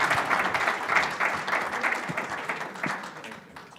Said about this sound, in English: give Kevin a round of applause